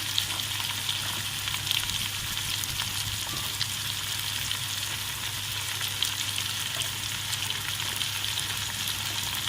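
Red chili and cumin sizzle steadily in hot oil in a pan for a potato and egg curry, a continuous close frying hiss with faint stirring and no talk.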